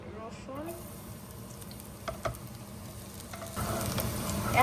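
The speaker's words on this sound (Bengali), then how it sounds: "তেল গরম হয়ে গেলে 2 টেবিল চামচ রসুন দিব।" Garlic, two tablespoons, frying in hot oil in a home kitchen, a steady low sizzle with occasional stirring clicks that grows louder and fuller toward the end.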